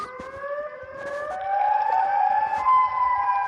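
Siren Head's siren wail in a video game rises slowly as a long, layered wavering tone that swells in loudness partway through, with no speech over it.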